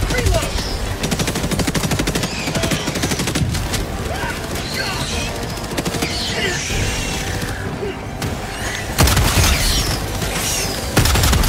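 Gunfire from a shotgun in the video game Helldivers 2, a dense barrage of rapid shots and booms running throughout under a loud, busy battle mix, with brief talk at moments.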